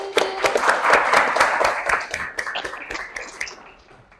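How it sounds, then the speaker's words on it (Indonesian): A studio audience applauds guest stars in a dense burst of clapping that starts loud and gradually thins and fades over about four seconds. "tepuk tangan buat bintang tamu kita hari ini"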